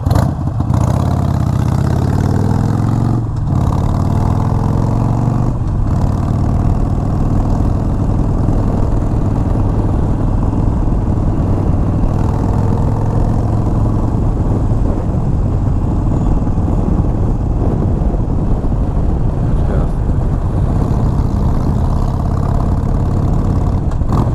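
A steady engine idles at 1,000 RPM throughout with a low, continuous rumble and faint mechanical chatter, fairly close and loud, with no voices.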